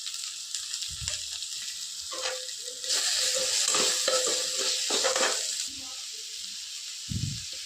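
Onions frying with salt in a pan: a steady hiss and sizzle that swells louder for a few seconds, with a few soft thumps and spatula scrapes, close, with no clear speech.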